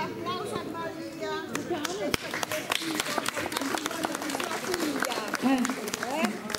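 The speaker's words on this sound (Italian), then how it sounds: "Applauso a Maria" An audience at an Italian comedy show applauds for Maria. Scattered clapping and crowd chatter run under ongoing talk, with a few sharp, close claps.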